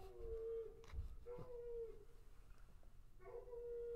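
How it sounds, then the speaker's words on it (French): A dog howls somewhere in a quiet city at night, a few long drawn-out wavering calls with pauses between them, heard from a distance over a low background rumble. "vous avez entendu. Il y a un chien."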